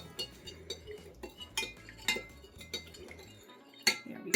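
A spoon stirs sugar into water in a glass or bowl, giving a run of light, bright clinks and scrapes against the side at an uneven pace, close and fairly quiet, with a low hum underneath.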